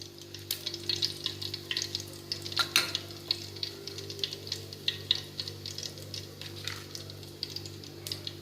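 Cumin seeds crackle and sizzle in hot oil, with a steady close frying hiss broken by sharp little pops and an occasional stir.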